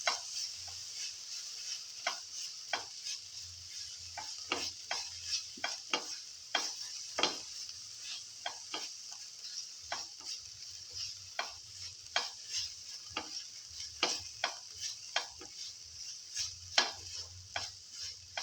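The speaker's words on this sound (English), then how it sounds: "Salt and mix the ginger garlic paste." Ginger garlic paste and salt are stirred in a hot pan with a spoon, producing irregular scraping clicks over a soft continuous sizzle, repeated steadily throughout and without any voices.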